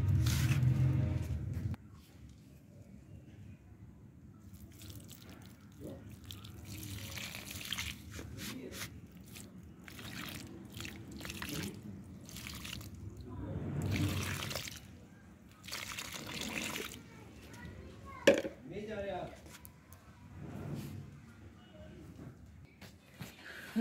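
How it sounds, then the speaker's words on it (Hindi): Water trickles and dribbles onto a potted calendula plant in short, quiet pours spread over about twenty seconds, with soft splashing and a few louder moments in between. "अब इसको देना हमें पानी"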